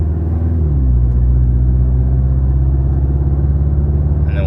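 A 2024 Toyota Tacoma four-cylinder with a MagnaFlow exhaust pulls away under light acceleration to about 45 mph, giving a loud, continuous, deep exhaust rumble that rises gently in pitch, heard close up from inside the truck.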